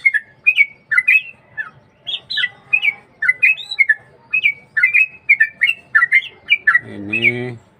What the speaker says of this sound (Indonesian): Kita menikmati suara kicauan burung trucuk